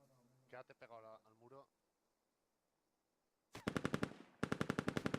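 Rapid bursts of automatic gunfire in a multiplayer shooter match, two sharp volleys of evenly spaced shots after a stretch of near silence, with a voice speaking briefly before them.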